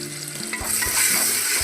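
Chopped onion and tomato sauté in a pan for vegetable daliya, a loud continuous sizzle with spatula strokes stirring through it, close and without speech.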